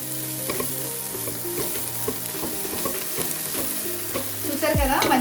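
Biryani masala with dry mint frying for Rajahmundry-style fry piece biryani, a loud dense sizzle close by, with a spoon stirring and scraping through it and a louder clatter at the end.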